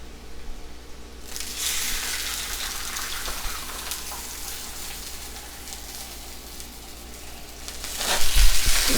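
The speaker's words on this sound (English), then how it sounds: "I skimmed as much oil as I can off the top to go ahead and stick my tortillas in" White corn tortillas are laid into hot birria oil and burst into a loud, crackling sizzle that holds steady, then swells into sharper popping and spattering near the end.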